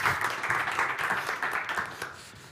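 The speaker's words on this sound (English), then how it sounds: "Once again, round of applause for MyReha." An audience at a health tech event claps after a presentation, a brief, moderately loud patter of many hands that fades toward the end.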